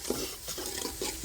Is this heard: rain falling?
no